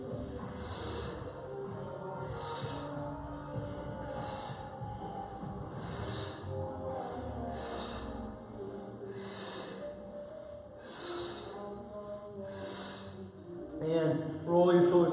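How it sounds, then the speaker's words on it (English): Strong, sharp exhales repeat in a steady rhythm during a core workout of ab crunches, about a dozen hissing breaths heard close over background music. "Strong exhale on the way up."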